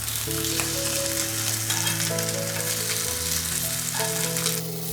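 Pink sausage slices coated for jeon fry in oil in a pan on low heat, giving a steady, close sizzle with a soft crackle that runs the whole time, and no talking.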